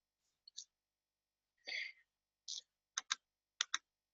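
A few soft keystrokes on a computer keyboard entering a spreadsheet formula, a handful of short, quiet clicks in small clusters with pauses between them.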